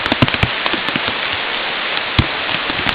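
Rain falls steadily on a muddy driveway as a dense, even hiss, with heavier drops tapping close by in scattered, irregular hits, and no voices.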